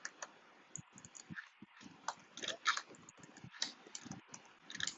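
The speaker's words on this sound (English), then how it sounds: "So let me type again index" Typing on a computer keyboard while entering code, with rapid, irregular key clicks in short bursts and brief pauses, close and moderately loud, with no talking.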